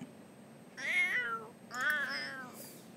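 A sick cat meows in The Sims 4: two clear, close meows with a short gap between them, alone over a faint, low background hum.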